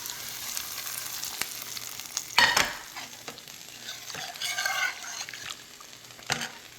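Tempering frying in hot oil and being poured into sambar, a soft steady sizzle with a sharp burst of spattering as it hits, then scraping stirs and a few clinks, no talking.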